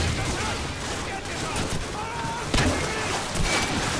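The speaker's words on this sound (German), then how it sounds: "die Granaten schießen anscheinend durch die Gegner durch" Grenade launcher attachment firing in Call of Duty 4 amid a dense run of game gunfire and booming blasts, with a sharper, louder impact midway and a voice talking over the noise.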